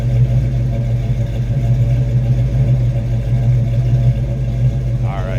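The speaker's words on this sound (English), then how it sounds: "Got that 390 V8 underneath the hood. It's got a rumble to it." Steady, loud rumble of a 390 V8 idling in a 1967 Ford Mustang coupe, a deep continuous throb with no break, heard close and alone throughout.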